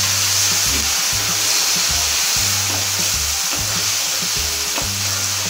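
Cuttlefish sizzling and frying in a paella pan for a seafood paella, a loud steady crackle with rhythmic low scraping strokes of stirring throughout.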